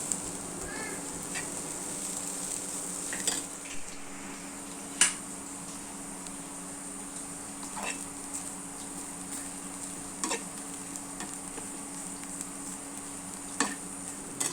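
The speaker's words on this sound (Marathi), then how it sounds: "सोय बरी तळसून घेता." Grated coconut fries quietly in a pan for clams xacuti, a faint low sizzle with occasional sharp clicks from a spoon, heard alone without talk.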